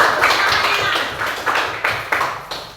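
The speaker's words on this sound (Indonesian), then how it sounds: "ayo tepuk tangan buat kelompok kedua nak" Fourth-grade children in a classroom clap for a group, a brisk burst of close applause that breaks into several sharp separate claps and fades toward the end.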